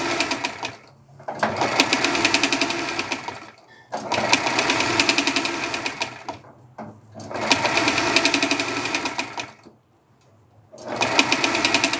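Sewing machine stitching fabric in steady buzzing runs of several seconds, broken by short pauses between seams, close to the microphone and clearly audible without talk.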